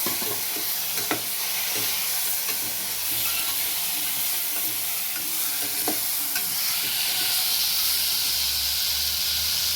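Small shallots and tomatoes fry in a pan with oil for a Tamil cowpea and dried-fish curry, giving a steady close sizzle and hiss throughout, with occasional soft stirring scrapes and no talk.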